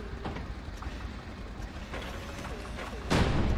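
A tank gun firing in the World War II shooter Hell Let Loose, with a few dull distant booms over a rumbling background and one louder, closer blast near the end.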